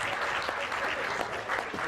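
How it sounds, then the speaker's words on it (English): A room of guests at a charity golf event dinner claps for the caterers, a brief burst of dense, even applause, fairly faint and continuous throughout. "Big round of applause to them."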